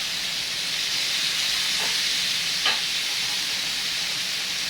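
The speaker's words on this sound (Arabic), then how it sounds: "هنزل عليها بكوبايه ميه" A loud, steady sizzle fills the clip, with brief hissing bursts as a cup of water hits a hot pan of browned garlic beef kebab.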